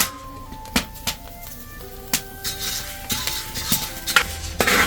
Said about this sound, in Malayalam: ഇളക്കിക്കൊണ്ടിരിക്കണേ കാപ്പിക്കുരു